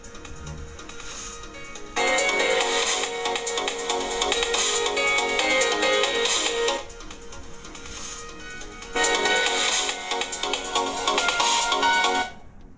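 Music plays from the single loudspeaker of an Elephone P7000 smartphone, a thin, bright melody in two loud bursts separated by a quieter stretch, heard nearby with no talking.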